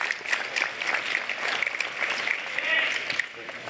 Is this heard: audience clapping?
yes